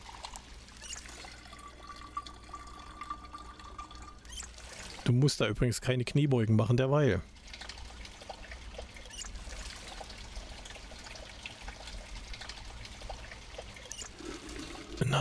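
Water pours and trickles into containers in the video game Project Zomboid, a loud gurgling burst lasting about two seconds, with someone talking over quiet background noise before and after.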